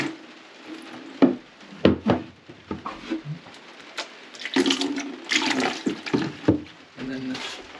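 Water running through a siphon hose out of a drinking-water tank during a drought, gurgling and splashing in uneven bursts with a few knocks and soft handling sounds.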